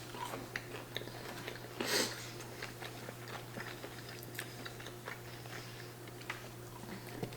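Close, quiet chewing of chicken nuggets, with soft crunches and wet mouth sounds over a steady low hum, and one louder bite near the start.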